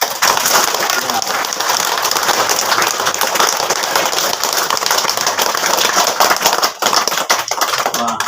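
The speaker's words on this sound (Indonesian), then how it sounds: "Tepuk tangan." Loud, continuous clapping from a crowd at a parish youth gathering, mixed with voices and shouting throughout.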